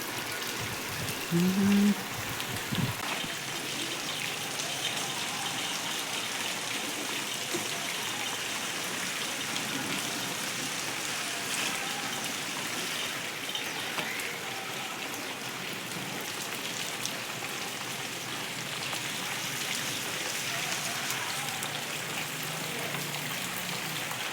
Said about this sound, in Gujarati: આજે તો વરસાદ બહુ આવ્યો છે